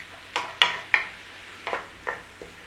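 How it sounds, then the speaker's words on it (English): Chopped onions and pepper sauteing in a pan, a soft low sizzle broken by about six sharp scraping stirs of a spoon spaced unevenly, close and alone with no talking. "A nice little saute on those onions."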